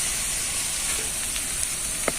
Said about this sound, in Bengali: বন্ধুরা, এবার আমি ডিমটা দিয়ে দেব।